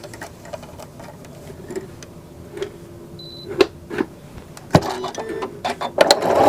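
A sewing machine stitches a decorative open work stitch with an embroidery needle and regular thread, giving a steady low mechanical hum broken by irregular ticks and a few sharp clacks, close up with no voices.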